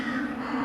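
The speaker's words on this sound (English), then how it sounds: "Black crows flew overhead, cawing like an ominous sign." Black crows cawing overhead along a road, a steady harsh calling that fills the short moment without any speech.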